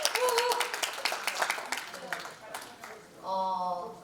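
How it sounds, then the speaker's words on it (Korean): Brief scattered clapping from a small audience at a Korean public forum on student rights, a few claps in a quick, uneven run that thins out, followed by a voice speaking. "박수 부탁드립니다"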